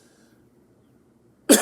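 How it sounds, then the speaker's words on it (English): A single sharp, loud cough bursts out near the end after near silence, from an adult with an infectious cough from a cold or flu. "I have a horribly infectious cough at the moment."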